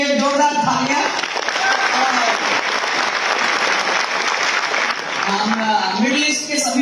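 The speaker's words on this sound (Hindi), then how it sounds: "तो आप सभी के लिए भी एक जोरदार तालियां" A loud burst of applause fills a hall at a DXN business conference in the UAE, dense clapping throughout, with voices and a brief tonal sound at the start and end.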